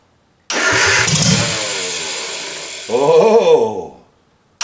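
An MGA sports car engine fitted with SU carburetors cranks and catches with a loud, close, rough burst that settles briefly, then a second surge of revving near the end before it cuts off, with no talk.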